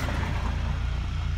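A car passes nearby during a storm, a loud, low engine rumble and road noise that holds steady through the short stretch, with no voices.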